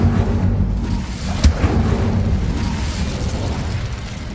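Fiery spell blasts in Hogwarts Legacy, a rumbling explosive roar with one sharp burst standing out near the middle, the crackling blast noise carrying on steadily without speech.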